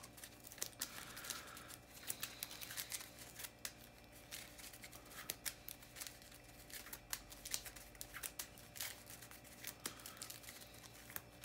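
Playing cards for the Marvel Champions card game are shuffled quietly, a run of soft riffling and crisp card snaps in uneven bursts, close and faint, with no talking.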